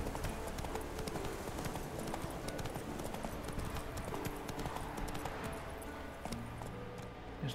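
Horse hooves gallop in steady rapid clip-clop rhythm across an open world in The Witcher 3, continuous and fairly loud, with faint in-game ambience and a brief whinny-like texture beneath.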